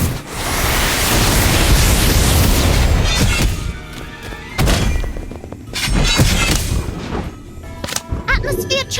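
A loud, sustained fiery blast from the Confringo explosion spell in the Harry Potter: Magic Awakened video game, a roaring rumble that fades into scattered crackles and thuds.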